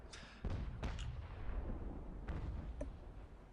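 Ship cannons firing chain shot at sails in a Naval Action naval battle: several distant booming shots spaced irregularly, each a sharp thud followed by a low rumble, fairly faint.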